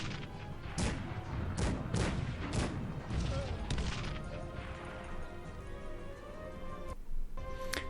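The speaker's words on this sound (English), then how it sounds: "Let's bombard enemy positions." Artillery bombarding enemy positions in the video game Cossacks 3, a dense volley of booming cannon shots and crashing impacts, several sharp blasts in quick succession, then a lingering rumble with a final loud hit.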